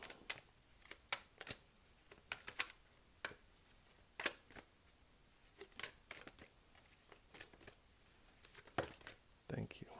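Tarot cards are shuffled and handled in quick, crisp riffles and snaps, irregular bursts close to the mic against a quiet background, with a voice speaking between them.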